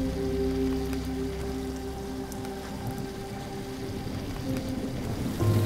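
Desert rain falls as a steady, dense patter. It is joined by soft tonal hums and a faint low rumble near the end, heard at a moderate level without any voices.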